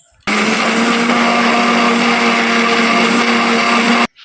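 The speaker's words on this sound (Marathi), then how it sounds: "आता मिक्सरमधून छान आपल्याला बारीक वाटून घ्यायचं आहे" An electric mixer grinder blends soaked moong dal with garlic cloves and green chillies in a single loud, continuous whirring run of about four seconds that starts and stops abruptly, with no talking.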